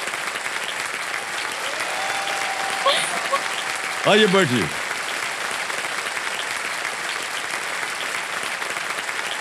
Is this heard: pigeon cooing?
no